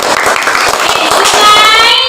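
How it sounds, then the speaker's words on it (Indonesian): A classroom group receives applause: many hands clap in quick, dense bursts close by, a lively patter that continues across the whole moment. "berikan tepuk tangan dulu untuk kelompok sungai"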